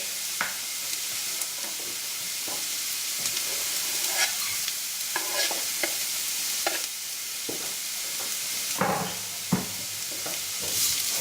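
Garlic and browning onions sizzle at a steady low hiss in a pan for stuffed bell peppers, and a spoon stirs through them in scattered close scrapes and taps, with no talking.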